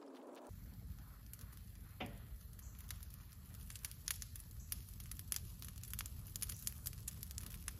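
A brush pile lit with diesel fuel burns outdoors, producing faint, scattered crackles and pops over a low, steady rumble.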